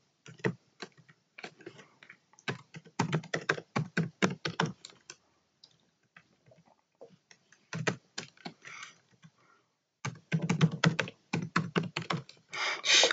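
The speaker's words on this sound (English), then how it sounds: "I'm sorry if this is a bit annoying that I keep typing a / spawn point every time I jump." Rapid bursts of computer keyboard typing during Minecraft parkour play, clustered keystrokes coming in irregular runs with short pauses, close and fairly crisp, no talking over it.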